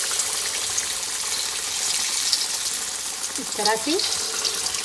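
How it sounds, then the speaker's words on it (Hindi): Fish pieces frying in very hot ghee for a Lahori fish fry, a steady close hiss and sizzle throughout, with a brief stir or clatter near the end and a few spoken words. "अब फिश को हम लोग फुल गरम घी में डालते जाएंगे"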